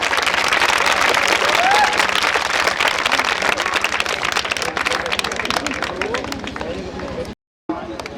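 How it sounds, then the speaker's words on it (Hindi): An audience claps steadily at a Ramlila theatre festival performance, dense rapid applause from a large crowd filling the space at high level before cutting off abruptly near the end. "आप अपनी तालियों से बताएं।"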